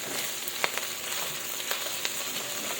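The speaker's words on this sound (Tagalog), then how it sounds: "gisahin natin na po siya yan kasama na yung meat" Pork with onion and garlic sautéing for Bicol Express, a steady loud sizzle with a few sharp scraping clicks of stirring, close and with no voices.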